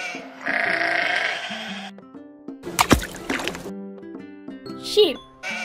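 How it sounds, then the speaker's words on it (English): A toy sheep bleats in a drawn-out wavering call, followed by a clattering burst and a bouncy, toy-like jingle. "Sheep."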